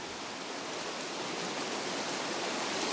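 A river flowing through a Scottish glen, a continuous broad rushing wash of water, steady and fairly close throughout with no voices.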